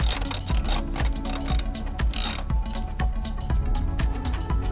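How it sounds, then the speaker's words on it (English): A 10 mm socket ratchet clicks rapidly and steadily while backing out headlight bolts on a Subaru WRX, loud and close, with a continuous metallic pawl chatter. "I'm gonna grab handy dandy 10 mil, found one, thankfully, and then remove 3 bolts that are going to then let the whole headlight loose"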